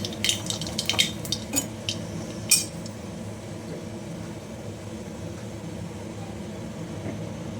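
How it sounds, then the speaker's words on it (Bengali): Dry red chili and nigella seeds drop into hot oil for tempering, giving a few sharp crackles and clinks in the first seconds before settling into a steady low sizzle-like hiss. "তেল গরম হয়ে গেছে একটা শুকনো লঙ্কা ফোড়ন দিয়ে দিলাম আর একটু কালো জিরে ফোড়ন দিয়ে দিলাম"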